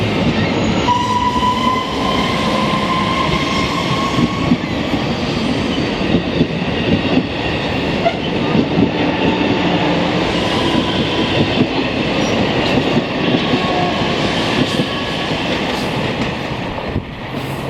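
AMT commuter train rolling past in Montreal, loud and close, with a steady rumble of wagons and wheel noise lasting throughout, plus a faint squeal-like tone early on.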